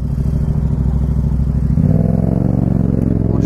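A scooter's small motor engine buzzes close by, its pitch shifting as it passes, loud and steady with a rattling, whirring tone.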